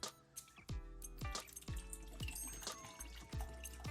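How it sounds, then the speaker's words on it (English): Water splashes and drips into a bowl in several short bursts while making brine for fermented hot sauce, with ringing, gurgling plops close by and no voices. "pour some of this water back into this bowl"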